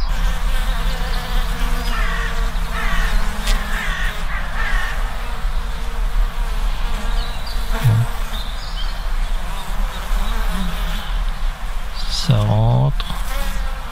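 Honeybees buzz at the hive entrance during a break in the rain, a dense continuous hum up close, with a few brief louder bees passing near and a bird calling once.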